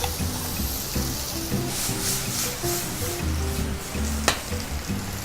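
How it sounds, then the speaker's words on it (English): Tatsoi greens and butter beans sauté in hot olive oil with a pinch of salt, giving a steady, close sizzle and crackle throughout, with a few soft stirring scrapes and one brief sharp clink near the end. "we're gonna add some tatsoi, which is a nice green for sauteing"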